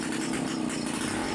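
A Vespa scooter engine being started and revving briefly: a close, loud, buzzy two-stroke drone with rapid pulsing.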